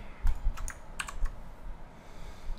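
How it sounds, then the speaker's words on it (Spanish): Computer keyboard keys tapped for a Ctrl+P print shortcut in CorelDraw: a few quiet, sharp clicks in a short irregular cluster, with no voice. "pueden ir en su teclado oprimiendo las, teclas control P para desplegar el menú de impresión"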